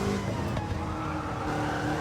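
The Roadster Shop Road Rage Camaro race car drives on a circuit with a loud, sustained engine drone and some tire scrub as it fights oversteer, heard up close.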